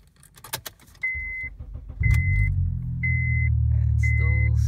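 A car engine cranks and catches after repair work, preceded by jangling keys and a few dash chimes, then settles into a loud, steady close-up idle rumble.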